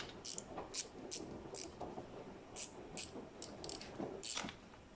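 Ratchet wrench loosening a Torx socket during clutch removal on a Citroën C3 1.2 PureTech: repeated quick clicking bursts of the pawl, fairly faint and close, in irregular runs with no talk.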